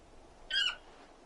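In the Final Fantasy XVI video game, a bird gives a single short, sharp squawk that stands out against a quiet background.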